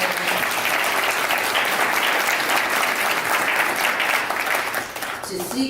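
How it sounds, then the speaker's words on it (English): Sustained applause from an audience, dense steady clapping filling the room throughout, tapering slightly at the very end. "So I think you need to give yourselves a round of applause for doing this."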